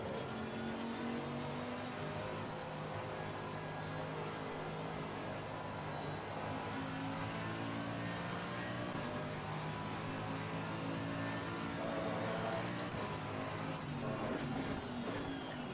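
Race car in the video game Assetto Corsa Competizione at Barcelona, a continuous engine drone with steady harmonics and small shifts in pitch, moderately loud and unbroken the whole time, with no talking.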